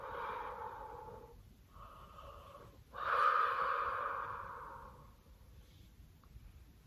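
A slow, deep exhale through the nose and mouth during a guided breathing release, a long airy whoosh swelling louder midway and then fading, heard close with no talking.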